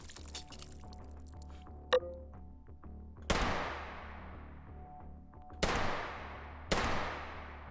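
Three heavy revolver shots ring out from a big revolver in H3VR, each a sharp, loud crack with a long decaying tail, spaced unevenly over a low hum, preceded by a small metallic click.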